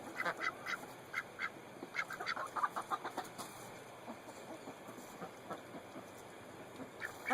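Ducks in a backyard pool eating goldfish, quacking and clucking in frequent short bursts at close range, with some chicken-like calls mixed in and no talk over them.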